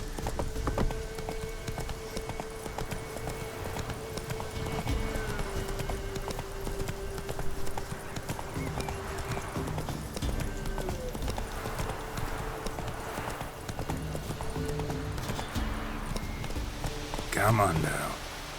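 Horse hooves clip-clop steadily in The Witcher 3, a mount trotting along under game music and a man's occasional spoken lines, with a brief louder flurry near the end.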